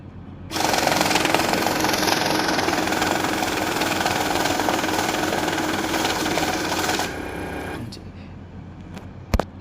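A banknote counting machine whirs loudly through a stack of mixed Bangladeshi taka notes, a dense steady mechanical rattle for several seconds that then cuts off, followed by a couple of faint clicks.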